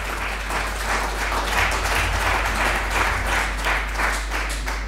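A large audience at a party's New Year kickoff rally breaks into sustained, dense applause, steady and fairly loud throughout, with a constant low hum underneath and no speech.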